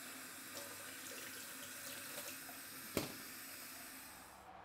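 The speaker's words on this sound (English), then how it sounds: "Got quite a few pieces here to wash down, so I'll get all these washed" Tap water runs steadily into a sink as pieces of fish are rinsed before smoking, a soft continuous hiss and splash with one brief clunk near the end.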